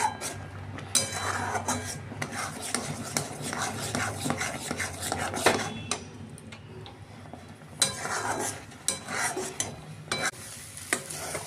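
A coconut and milk mixture is stirred in a pan, with continuous scraping and rasping of a spoon against the metal and occasional knocks, fairly quiet and close, without talk.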